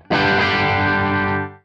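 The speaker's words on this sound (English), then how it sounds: "So I've got my guitar set with a little bit of gain." A single heavily distorted electric guitar chord, played with a little gain through a pedal, rings out loud and sustained for about a second and a half, then cuts off abruptly.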